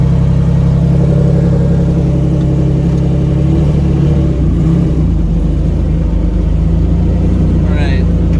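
A Lamborghini Diablo SVR race car driving, its engine a loud, close, steady rumble with a slight drop in pitch midway, and a person speaking over the sound throughout.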